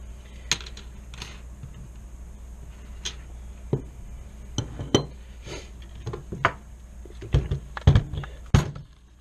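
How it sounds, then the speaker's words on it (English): Metal clicks and clunks of a Franchi SPAS-12 shotgun's magazine tube follower being dumped out during cleaning, a series of sharp close taps and knocks with brief gaps, steady low hum underneath. "Dump our mag tube out here, or follower rather"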